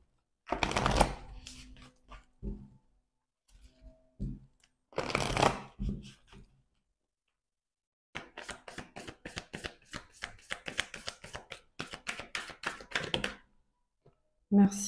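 Moon oracle cards are shuffled by hand in a few riffling bursts, then a long run of quick, crisp flicks and taps follows. A brief low voice is heard at the start.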